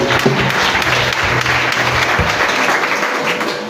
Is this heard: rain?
no